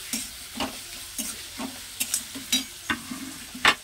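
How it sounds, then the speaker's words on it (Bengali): Garlic added to onions frying in hot oil in a pan, sizzling steadily while a utensil stirs, with repeated scraping strokes about every half second, close and fairly quiet. "খাবার মোড়া মোড়া হয়ে যেতে রসুনটা দিয়ে দিলাম।"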